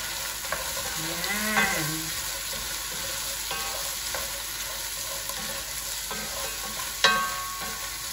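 Lobster going into a simmering pot of misua noodle soup: a close, steady bubbling sizzle with soft clunks and a sharp knock near the end, and a brief spoken word partway through.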